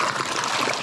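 Water from a stream at a wild bikepacking camp spot flows and trickles steadily, a close, continuous rushing babble with no voices.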